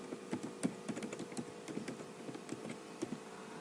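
Keys on a computer keyboard are tapped in quick, uneven bursts as a password is entered. The clicks are close and fairly quiet, and nobody speaks.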